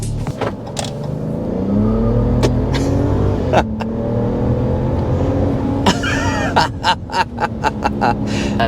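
A 2025 RAM 1500 Tungsten pickup with a 540 hp turbocharged inline-six under hard acceleration, engine note rising loudly through several gear changes, with a brief tire squeal and bursts of near, sharp transient noise toward the end.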